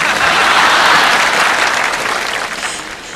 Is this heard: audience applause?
yes